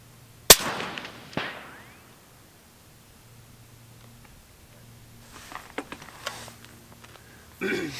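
A single sharp rifle shot cracks out at an outdoor range aimed at a 200-yard target, a loud close report followed by a short echo, then quiet shuffling and faint handling noises.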